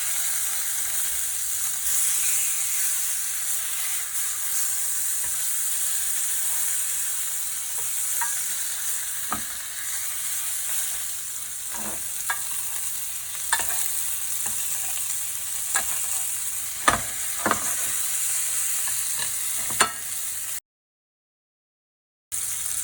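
A Wagyu fillet steak sizzles steadily in a pan while being basted with butter, a constant close hiss with scattered light clicks and scrapes of the spoon, ending in a brief dropout.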